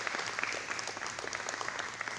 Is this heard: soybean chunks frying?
no